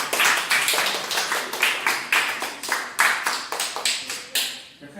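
Small audience at a children's cat drawing contest in a St Petersburg hotel clapping in a sparse, uneven burst, individual claps distinct and close, tapering off at the end.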